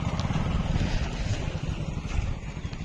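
Mahindra 475 DI tractor engine running at a steady, loud, rumbling idle close by, with a dense low drone and some wind noise, and no pauses or speech.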